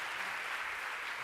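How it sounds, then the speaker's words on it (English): Steady applause from an audience after a lecture, a dense wash of many hands clapping together at an even, moderate level. "Let us have one more round of applause for Professor Amit for the wonderful lecture"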